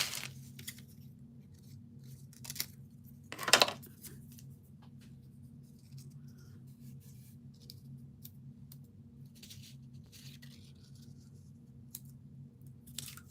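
Scissors snip off small leftover craft pieces, a few faint, sparse cuts with one sharper snip, over a steady low room hum.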